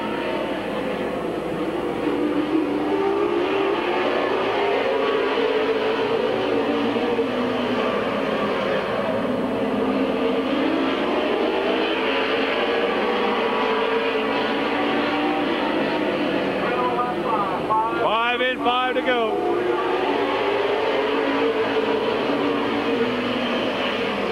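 Race cars circle Midvale Speedway in a steady, loud roar of several engines, with a brief sweeping pass near the end; a voice speaks briefly over the noise.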